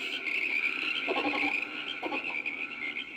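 Frogs croak as a sound effect on a 1974 children's Bible story record, with two or three raspy croaking bursts over a steady high hiss.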